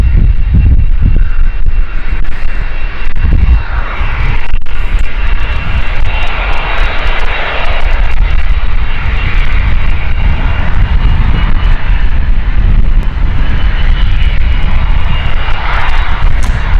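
Cessna Citation XLS business jet at London City airport, a steady broadband engine roar sustained throughout, loud and close with some wind buffeting.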